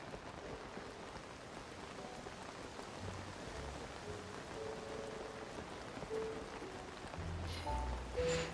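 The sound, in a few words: rain in video game Zelda Tears of the Kingdom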